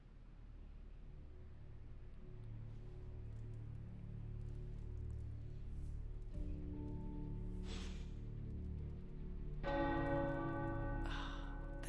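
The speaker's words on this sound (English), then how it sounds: "The tower bells are ringing." Tower bells ring in the video game Marvel's Midnight Suns, a layered metallic peal with sustained tones that swell louder toward the end over a steady low background hum.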